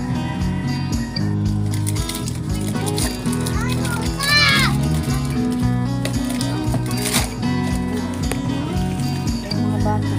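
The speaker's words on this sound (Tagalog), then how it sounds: "Maingay sila talaga. Bata kasi." A group of noisy children play nearby, their overlapping chatter, shouts and squeals forming a dense continuous din with a few sharp high cries standing out.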